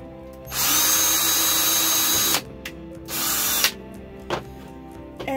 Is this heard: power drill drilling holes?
yes